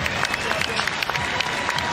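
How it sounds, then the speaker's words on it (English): Arena crowd at a Portland Trail Blazers NBA game giving a standing ovation, a dense, steady roar of applause and cheering filling the hall throughout. "And the crowd giving him a standing ovation."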